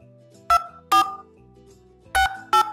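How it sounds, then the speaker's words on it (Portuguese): Four short telephone keypad tones entering a four-digit PIN on a phone call to verify an Amazon Web Services account, crisp separate beeps with pauses between them over a quiet line. "Usando o teclado numérico de seu telefone, por favor, informe o número de 4 dígitos do PIN"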